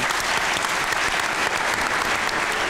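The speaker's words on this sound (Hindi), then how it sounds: "ताली होनी चाहिए मैडम से।" A live comedy show audience breaks into dense, steady applause that fills the room evenly from start to finish, without a break.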